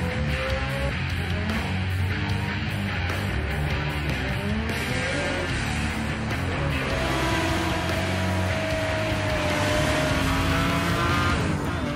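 A racing car in a racing video game holds a steady, loud engine drone with gear shifts and tire squeal throughout, with no speech.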